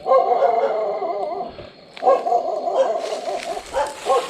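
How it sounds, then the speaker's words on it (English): Dogs near an old water tower and dry riverbed in rural Thailand bark, yip and howl in overlapping bursts, fairly close and loud, pausing briefly midway before resuming. "Freaking dogs everywhere."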